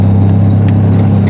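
A Triumph TR6 engine pulls steadily in second gear at around 2,600 rpm, a loud, close, even drone with no talk over it.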